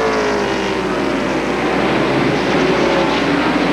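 NASCAR stock cars racing at North Wilkesboro in the 1996 Tyson Holly Farms 400, a steady, loud roar of engines filling the whole stretch with no pause or break.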